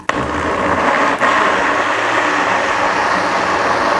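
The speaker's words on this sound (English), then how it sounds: "this is an upside down blender and we need the milk to be here to help blend out everything nicely" An upside-down blender whirs loudly as it blends avocado and milk for homemade ice cream, a steady dense motor roar starting abruptly and running unbroken, close and alone.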